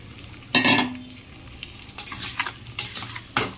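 Potatoes hit a hot pan in a loud burst of sizzling, then scrape and clatter as they are stirred with spices for a matar paneer curry, the frying hiss continuing between utensil knocks.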